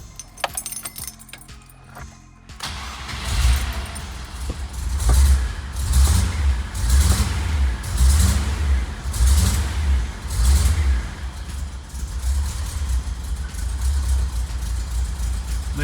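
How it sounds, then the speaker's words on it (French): Keys jangle briefly before an engine unused for six months cranks and starts, then settles into a low, throbbing idle that rises and falls in gentle pulses, close and steady. "ça démarre plutôt bien"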